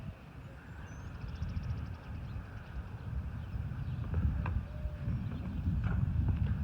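A mare's hooves clop slowly on the ground at a walking pace, irregular soft thuds growing slightly louder, with faint outdoor background noise.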